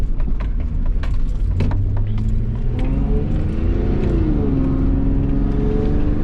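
A Freedom Factory Down Under V6 engine of 2 litres and 200 hp is revved up loud and close, rising and falling in pitch with mechanical whir and clatter underneath.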